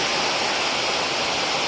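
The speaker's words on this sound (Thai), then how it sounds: "ถือว่าเป็นน้ำตกที่งามอีกน้ำตกหนึ่งสำหรับน้ำตกตาดเยื่องเนาะ" Tad Yueang waterfall in Champasak province, southern Laos, a dense, steady rushing roar of falling water, loud and constant throughout.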